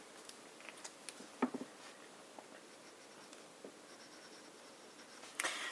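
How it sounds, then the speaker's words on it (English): A fountain pen with a medium nib writes an ink name on paper in faint, scattered scratches and short strokes, quiet and close, with a few sharper taps and no talking. "Today I thought I would just write the name of the ink."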